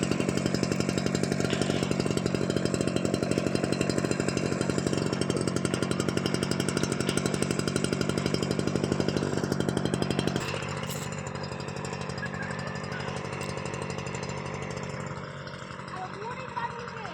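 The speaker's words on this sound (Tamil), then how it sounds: "அப்பா மிஷின் ஸ்டார்ட் பண்ணிட்டு இருக்குதுங்க" A motorized pesticide sprayer's small engine runs at a steady, loud, buzzing drone, used for spraying weed killer on a farm with coconut saplings. The sound continues throughout and drops to a lower, quieter hum about two-thirds of the way through.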